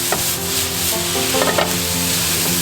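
Soy sauce is stirred into fried rice in a pan with a spoon, producing a loud steady sizzle with a few scraping, clinking stir strokes and no talking.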